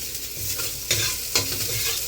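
Garlic frying in hot oil, a dense, steady sizzle with two brief utensil scrapes partway through.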